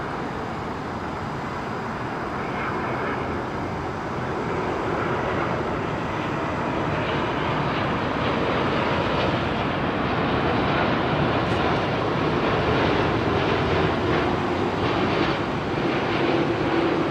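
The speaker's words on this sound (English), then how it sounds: "This is the Kenya Airways," A Kenya Airways airliner at London Heathrow, its jet engines giving a continuous broad roar that swells slightly over the span, steady and fairly loud with no talk.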